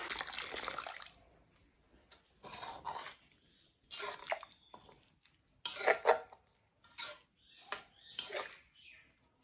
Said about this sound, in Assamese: এতিয়া গৰম পানী এতিয়া ইয়াতে দি দিম